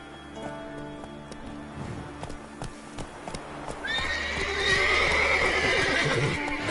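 Roach, the horse in The Witcher 3: Wild Hunt, whinnies loudly and gallops with clip-clop hoofbeats that swell into a fuller, louder rush midway, set against a steady game soundscape.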